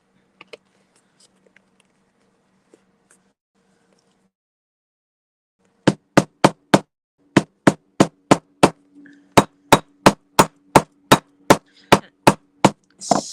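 A hammer pounds a leather seam on an officer-style hat, a long run of sharp, evenly spaced knocks, close and loud, after a few seconds of faint quiet handling sounds.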